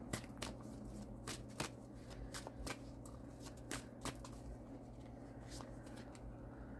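Cards are pulled from a tarot-style deck, giving a quick run of crisp papery flicks and snaps in a quiet room.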